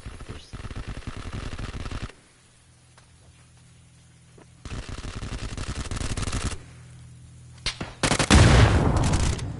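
Gunfire in PUBG: bursts of close, loud rapid shots in two long volleys separated by quieter gaps, ending in a heavier blast.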